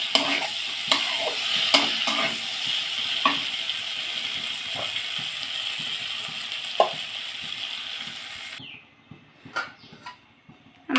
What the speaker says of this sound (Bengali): মাছগুলো দিয়ে এর সাথে একটু সামান্য কষিয়ে নেব